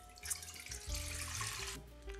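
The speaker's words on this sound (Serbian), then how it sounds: "U posudu za mešanje sipamo 400 ml tople vode." About 400 ml of warm water streams into a mixing bowl, a short, quiet, close pour with a gurgling trickle and no talking.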